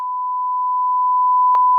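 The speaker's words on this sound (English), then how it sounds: "you've got like a sort of swearing beep over the top of it" A censor bleep over swearing: one continuous, loud, pure electronic tone held for nearly two seconds, with a short click partway through and no other sound.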